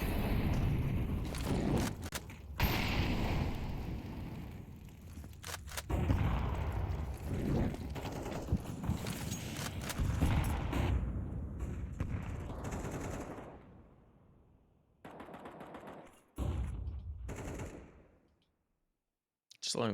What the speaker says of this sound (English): Just letting the cacophony of bullets do the talking for a moment there.